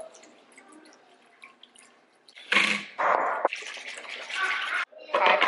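Water is poured into a sourdough bread starter in a home kitchen, coming in several bursts of splashing flow after a quiet stretch with faint background sounds.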